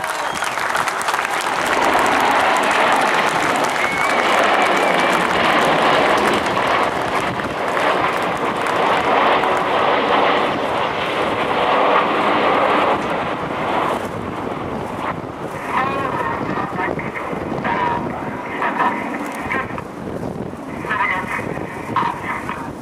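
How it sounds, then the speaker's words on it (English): RAF Red Arrows jets flying the Lancaster roll at a 2008 airshow over Hampton Roads make a loud, sustained roar that swells and fades over more than twenty seconds, with wind buffeting the microphone and a commentator talking over it. "So at the end of their fantastic Lancaster roll, the aircraft only 6 to 8 feet apart"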